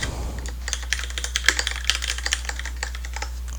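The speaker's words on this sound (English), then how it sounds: "So if I were to type some code here" Rapid, close typing on a computer keyboard as code is entered, with a steady run of crisp key clicks and irregular bursts over a low constant hum, no voices.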